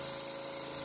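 A spray gun sprays thinned Walmart paint in a continuous, steady hiss that holds at an even loudness throughout.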